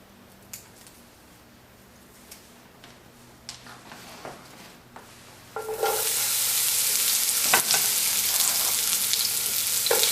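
Sliced onions for beef lo mein hit a hot pan, and a loud, steady sizzle jumps in partway through and holds to the end after quieter kitchen handling noises.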